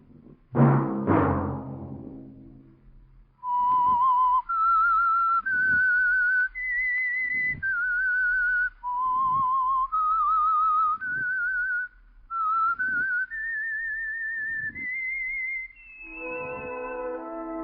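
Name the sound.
The Whistler radio show theme whistle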